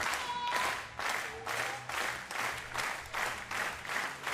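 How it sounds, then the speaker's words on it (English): Crowd at a women's 50m rifle three positions shooting final claps along in a steady rhythm, with repeated bursts of applause swelling and fading at a moderate distance. "So the crowd clap along."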